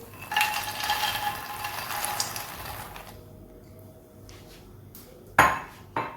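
Fox nuts (makhana) dropped into hot desi ghee in a pan, giving a few seconds of broad sizzling hiss that fades to near quiet, then a sharp clatter of a utensil against the pan near the end.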